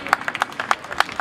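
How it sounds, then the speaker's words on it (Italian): Brief applause at the Premio Internazionale Città di Napoli award ceremony in Naples, with sparse, distinct hand claps in an uneven rhythm, fairly close and moderately loud. "Un applauso e complimenti anche per lei."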